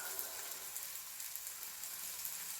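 Noodles searing against a hot pan with vegetables, a faint, continuous hiss and fine crackle that holds steady from start to finish, with no voices.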